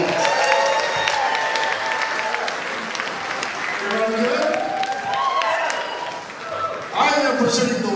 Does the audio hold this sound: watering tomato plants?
no